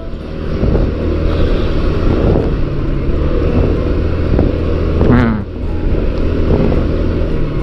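A Honda Forza 350 scooter ridden two-up with a top box leans through a corner on ND Rubber tyres, its engine droning loudly and steadily under heavy wind buffeting.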